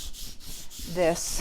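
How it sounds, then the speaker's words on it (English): Very old sandpaper lightly scuffs painted letters on a wooden farmhouse sign, giving soft, quiet rubbing strokes up close, with one brief spoken word. "I'm going to take a very old piece of sandpaper, and I'm going to sand down the letters a little bit"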